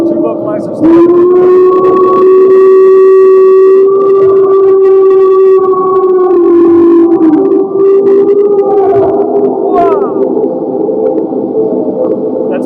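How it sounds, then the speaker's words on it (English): A train horn sounds a long, loud, sustained blast that holds steady for several seconds, then shifts pitch and wavers before trailing off. "That's a train."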